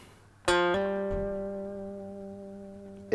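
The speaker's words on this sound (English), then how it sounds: "Vibrato is just like an oscillation, fast controlled" A long electric guitar note held with vibrato, as in a classic rock solo: two quick picked attacks, then one sustained, ringing note that slowly fades, played alone and close.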